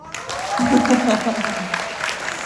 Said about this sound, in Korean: 하고 싶은 사람 박수.